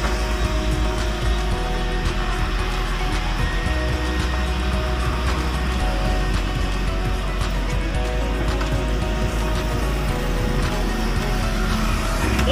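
A pickup truck's engine hums steadily and loudly while the vehicle backs up in reverse gear during a beginner driving lesson, with a continuous low drone that never lets up.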